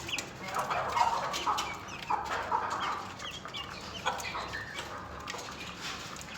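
Chickens cluck and a rooster calls in short bursts over a quiet outdoor background at feeding time; no one speaks.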